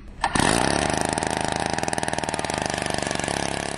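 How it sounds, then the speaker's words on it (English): A motorised drill bores a hole into Antarctic sea ice, starting abruptly and running at a steady loud pulsing drone, with no one speaking. "They find a spot on the ice and drill a hole."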